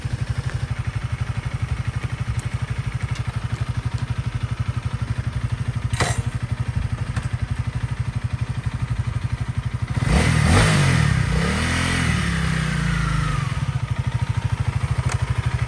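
A 2021 Honda CRF300L Rally motorcycle rides around the block, its engine thrumming steadily up close, then revving hard with rising gear-change sweeps and a clattering burst before settling back to a steady drone.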